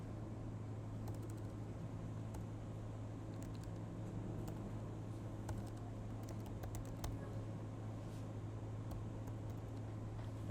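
Quick, irregular keystrokes on a computer keyboard as a filename is typed in, close and fairly soft over a steady low hum.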